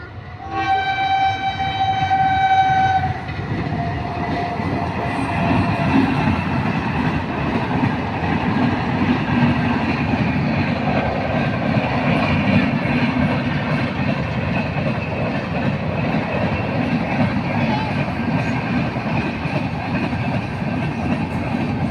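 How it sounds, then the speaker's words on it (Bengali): A train horn blares briefly, then a loud, steady rumble and rattle of the train passing close by continues without a break. "ট্রেন চলে গেল"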